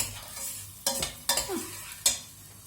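Soft, steady sizzling of food sautéing in a pan for spinach soup, broken by a few sharp clanks and scrapes of stirring, with no voices.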